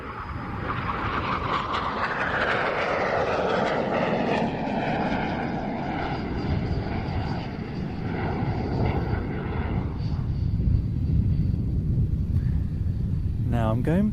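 A BAE Hawk jet roars overhead at an air show, a broad, sustained engine rush that swells and shifts as it passes, with a commentator talking over it.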